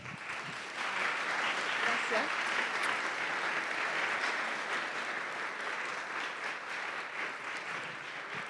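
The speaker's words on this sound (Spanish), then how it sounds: "a nuestra maravillosa expositora, que le vamos a dar un mega aplauso" An audience in a Santiago lecture hall gives a speaker a long, loud round of applause, dense continuous clapping holding steady for several seconds without speech over it.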